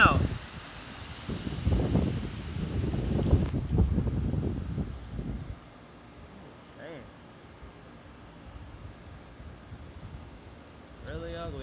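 Strong wind gusts roar into the microphone with rain hissing on surfaces, loud at first and then easing into a steadier, quieter rush.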